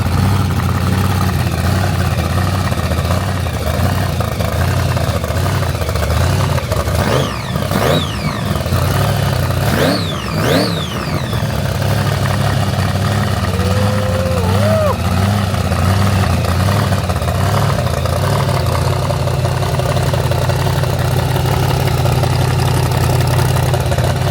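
A widebody Dodge Hellcat idles loudly and steadily nearby, with a couple of brief throttle blips rising and falling midway, while a voice speaks faintly over the engine.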